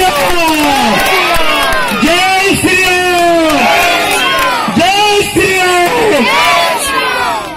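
A large crowd cheers and shouts loudly and continuously, with many overlapping voices rising and falling in excited whoops. Distinct clapping is hard to pick out.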